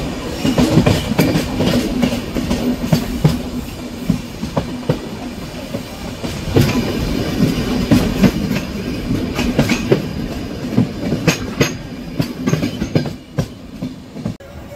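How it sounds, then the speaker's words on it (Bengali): The Digha–Howrah Kandari Express running into Tamluk while rounding a curve, with loud, steady clickety-clack of wheels over rail joints and a faint wheel squeal, heard up close with no talking. "ট্রেন আমাদের ঢুকছে তমলুক, আর কি সুন্দর একটা কার্ভ নিচ্ছে দেখো ট্রেন।"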